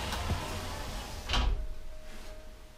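A sliding shower door slides along its track and bumps shut with a soft thud, close by, over a low background hum.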